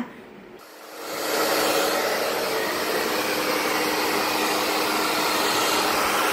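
A hair dryer switches on and settles into a loud, steady whoosh that runs close by and unbroken for several seconds.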